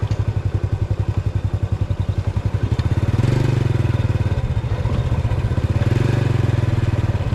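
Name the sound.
motorcycle riding on a road to a river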